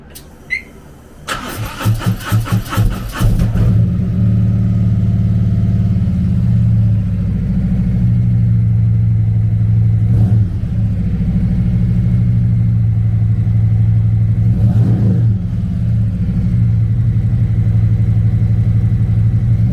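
Harley-Davidson CVO Electra Glide Limited with a 117 cubic inch twin engine cranks and fires up, then settles into a loud, steady, lumpy idle with a few brief throttle blips, close by with no talking.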